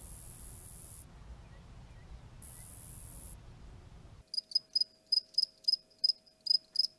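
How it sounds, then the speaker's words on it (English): Crickets chirp by rubbing their wings together. A dense, faint background chorus switches on and off, then gives way to a series of sharp, evenly spaced chirps, close and clear against near silence. "And crickets rub their wings together."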